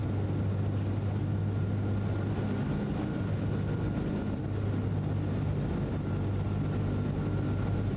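Twin piston engines of a DC-3 aircraft in Microsoft Flight Simulator, throttled back on landing approach, giving a steady low droning hum that holds fairly constant and fills the background without any talking.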